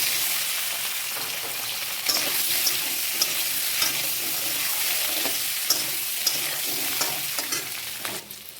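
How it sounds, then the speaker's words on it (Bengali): Eggs and potatoes frying with turmeric and salt for an egg curry, a loud steady sizzle broken by repeated scraping stirs in the pan, with no voices. "ডিম আলু ভেজে নেব হলুদ লবণ দিয়ে"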